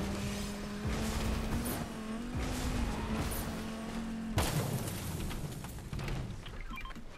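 Fortnite car driving along with steady engine drone that shifts pitch, tire squeals and a heavy thump midway, continuous and fairly close with no talk.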